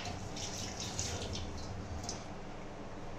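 Tap water runs steadily into a sink while something is rinsed under it during lemonade making, a soft close trickle and splash with faint clinks, no speech.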